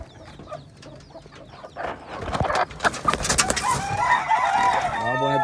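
Chickens in a Dominican backyard pen, a hen being placed with a fine Pava rooster, give clucks and squawks that rise into loud flapping and calling, with a brief low voice near the end.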